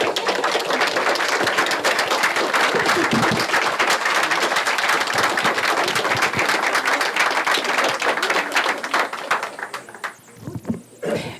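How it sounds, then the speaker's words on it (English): Sustained loud applause fills a Rotary Club meeting room as the audience welcomes new members, dense clapping throughout that thins and fades near the end. "Everyone, please rise and give a warm applause to our newest Rotarians."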